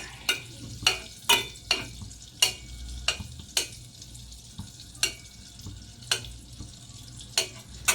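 Butter sizzling quietly in a pan over low heat, with sharp clicks and clinks of a utensil stirring it at irregular intervals.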